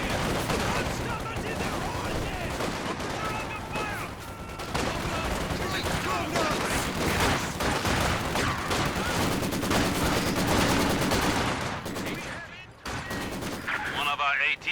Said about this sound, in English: A bit of LMG action firing up.